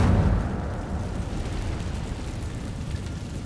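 Incendio fire spell cast in Hogwarts Legacy: a deep whooshing burst of flame at the start that settles into a rumbling, roaring fire tail fading slowly, with no voices.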